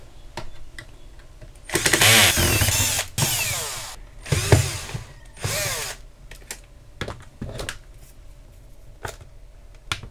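A power screwdriver whirs in several short bursts while backing screws out of a Flowatt portable power station during a teardown, with one longer run near the start and brief clicks and pauses between, close and fairly loud.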